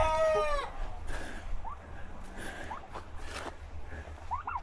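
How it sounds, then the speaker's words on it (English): Chickens clucking and calling softly nearby, a rising squawk at the start followed by scattered short calls over low background noise. "Last thing we need to do is take care of our chickens."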